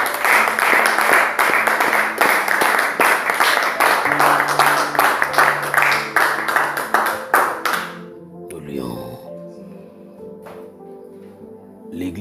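A church congregation at a service in Brazzaville claps hard and fast in steady rhythm for about eight seconds, loud and close, before the applause breaks off. A voice and ringing tones follow.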